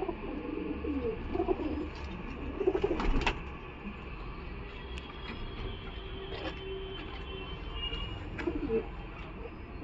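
Khaten Madras pigeons coo with low, repeated calls at a busy Galiff Street pigeon market, partly buried under steady crowd and street noise.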